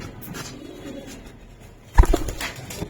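Black Teddy highflyer pigeons, imported from Dubai, coo softly and steadily nearby, with a sharper, louder flurry of sound near the end.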